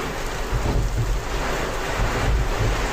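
Heavy hail and rain pour onto a car windshield while the wipers run, making a steady, loud roaring wash of water with no talking.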